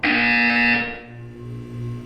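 A loud electronic buzzer from the Portal 2 video game sounds as a steady harsh tone for under a second, then cuts off, leaving a faint humming room tone.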